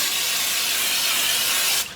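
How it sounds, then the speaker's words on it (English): A continuous close aerosol hiss of nonstick cooking spray onto a baking sheet, lasting under two seconds before cutting off. "I'm gonna spray our baking sheet"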